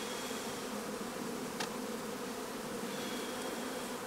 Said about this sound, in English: There are quite a few bees in here